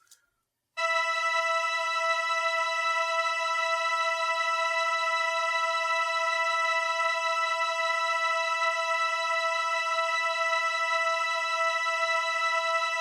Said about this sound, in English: So that's just a high drone. That is the Sequential Circuits Prelude synth.